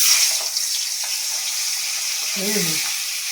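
Hilsa fish heads fry in a pan with a steady hiss of oil and a few light clatters. A short voiced burst stands out near the end.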